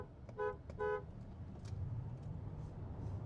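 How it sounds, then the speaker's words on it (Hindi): Two short honks from a car horn during a drag race between a Haval H6 PHEV and a Chery Tiggo 9 PHEV, loud and close, over a steady low rumble of the moving car. "अब मैं हॉर्न दूंगा।"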